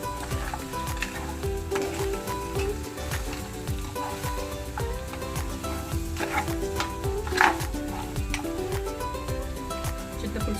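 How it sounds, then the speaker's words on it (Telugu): Crab curry with chilli and garam masala being stirred in a pan, a steady sizzle with repeated scraping and clinking of the spoon against the pot throughout, close and fairly loud. "గరం మసాలా వేసుకొని ఒకసారి కలుపుకొని"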